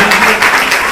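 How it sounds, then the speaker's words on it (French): An audience at a university debate event claps in a loud, dense burst, brief and close. "Merci d'applaudir"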